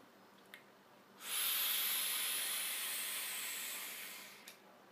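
A steady hiss of air drawn through a wrapped coil on a Wotofo Sapor RDA vape atomizer rises suddenly, holds for about three seconds, then fades, with faint clicks just before and after.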